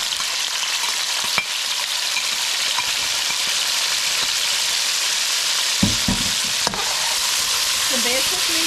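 Shrimp and garlic frying in a pan, a broad, steady hiss of hot oil held close, with a couple of sharp taps of a utensil against the pan partway through.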